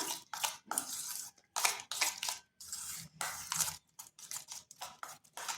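Ingredients such as milk powder, cardamom seeds and a pinch of turmeric being stirred in a bowl for a soft, spongy sweet, with irregular scraping and clinking strokes that repeat closely, nearby and moderately loud, with no talking.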